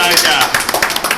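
Brief burst of applause, a few hands clapping in uneven rhythm under excited voices and cheering.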